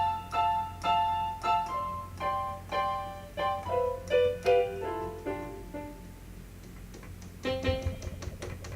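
Electronic keyboard played in a run of short melodic notes, close and fairly quiet. One key is faulty, so near the end a stretch of presses gives only soft taps before a final burst of notes.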